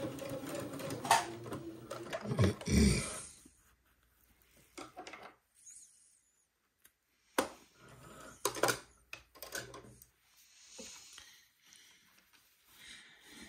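A sewing machine tacks elastic into a waistband in short bursts of stitching, with quiet pauses and light handling noises between them.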